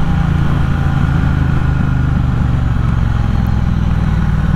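A 2021 Triumph Bobber's high-torque engine runs loud and steady while riding, a continuous dense rumble with no break and no talk.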